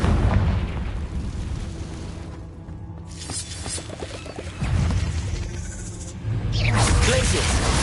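Confringo fire spell explosions in the Hogwarts Legacy video game, several loud booming bursts and crackling blasts following one another over rumbling game noise.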